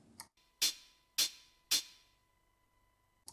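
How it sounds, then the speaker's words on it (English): Three crisp hi-hat hits at an even pace with short bright tails, quiet and dry over a faint hum. "and is the hi-hat, and it sounds like this"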